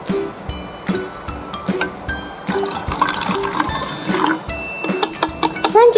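Water is poured from a container into a bottle during a school chemistry experiment on reaction rates, with a steady close trickle and filling sound, interspersed with light glass clinks.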